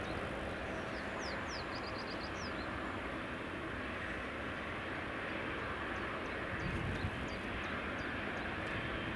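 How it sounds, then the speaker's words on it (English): EasyJet Airbus A320neo on final approach to runway 24 at Edinburgh Airport in the early morning, a faint, distant steady engine rumble with birdsong chirping above it and no talking. "coming in now, folks. 320 neo. On final."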